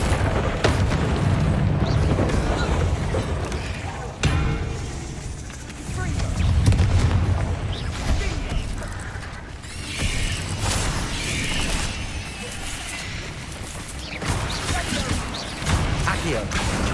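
Confringo spell blasts from the video game Hogwarts Legacy burst with booming, crashing impacts amid combat effects and game music, with a spoken voice partly over the noise.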